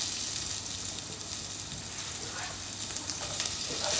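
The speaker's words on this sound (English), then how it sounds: "What we're now going to do is I want to fry the onion." Onion frying in about a tablespoon of oil, a continuous soft hiss and crackle that stays even and fairly faint throughout with no talking.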